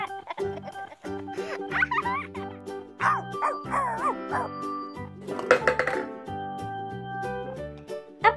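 Toy dog barking and yipping in a sequence of short electronic yaps and whimpers, close and clear, with musical tones running underneath.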